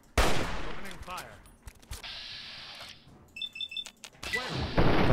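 Hunting rifle fire in Fallout 3 comes as sharp separate shots with echoing tails, a few loud cracks spaced through the clip among quieter mechanical clicks and game tones.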